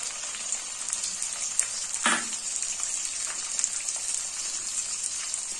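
Sliced onion frying in a hot pan for chili chicken sizzles steadily and close, a bright continuous crackle with one brief louder burst of spatter or stirring.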